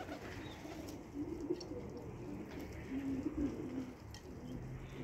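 Pigeons coo softly on a rooftop, low repeated calls rising a little above a steady outdoor hiss, with faint chirps now and then and no voices.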